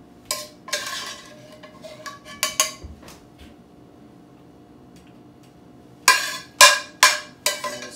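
Cutlery and dishes clatter as small shrimp from a simple seafood sauté are set onto a plate, with a few sharp clinks early, a quiet middle stretch, then a cluster of bright, close taps and scrapes near the end.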